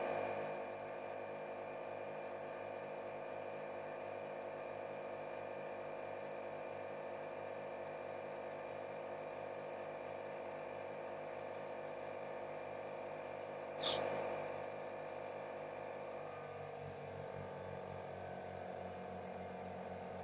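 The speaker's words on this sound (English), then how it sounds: "You hear the compressor wean off, it's sampling right now" An ARB air compressor runs with a steady mechanical whir and rattle in a tire inflation setup, holding a level drone, then its tone shifts and winds down near the end.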